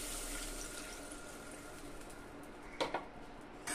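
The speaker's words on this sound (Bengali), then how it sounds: "এবার আমি অল্প পরিমাণ জল দিয়ে দেব।" Water poured into a pan of potatoes cooked down in spices until the oil separates, for a rohu fish curry: a steady, close rushing wash with a few brief splashy bursts near the end.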